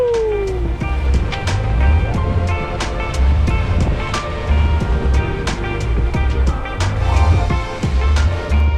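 Sailboat under main and head sail at 7.5 knots offshore between Georgia and Florida, with steady rushing water and wind noise, hull slaps and creaks and rhythmic low thumps of waves against the boat.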